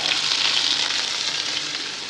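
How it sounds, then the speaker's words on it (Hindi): Steady, loud sizzling of paste frying in hot oil, a dense continuous crackle with no pauses or voices. "अदरक लहसुन का पेस्ट डलेगा।"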